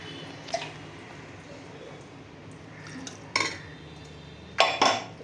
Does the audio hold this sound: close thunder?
no